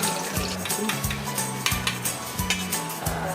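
Oil sizzling in a pan as food fries, with a steady hiss under repeated clanks and scrapes of utensils against the cookware.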